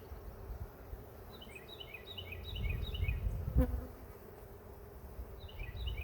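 Bees buzzing around an open hive during a hive inspection, a steady low hum with faint, repeated chirping sounds overhead and one sharp knock partway through.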